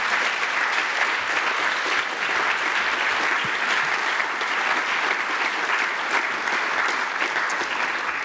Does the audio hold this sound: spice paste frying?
no